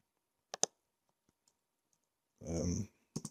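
A computer mouse gives a quick pair of sharp clicks, followed by a few faint taps in near silence, then a short burst of speech and two more clicks at the end.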